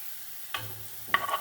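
Curry leaves drop into hot oil with onions for a South Indian-style potato bhaji, making two short, close sizzling bursts over a quiet background.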